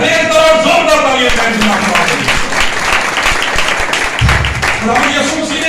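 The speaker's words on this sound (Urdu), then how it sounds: "زوردار تالیاں" Loud, dense applause from a church congregation during an Easter sermon fills the hall steadily for several seconds, with a brief low thump near the end.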